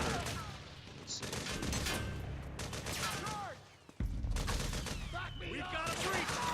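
Mortar and gunfire in Metal Gear Solid 4: Guns of the Patriots, with volleys of shots and heavy booms across a chaotic battle, a brief lull, then a sharp blast and renewed firing.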